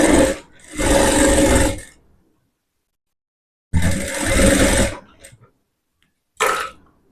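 A sewing machine stitches a blouse in loud, close bursts of steady whirring motor noise: two longer runs, then a short third burst, separated by silence.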